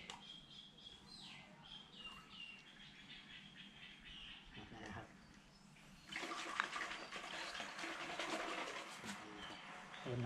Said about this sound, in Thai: เติมน้ำอุ่นหน่อยนะครับ